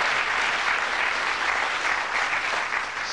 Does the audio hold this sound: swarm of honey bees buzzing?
no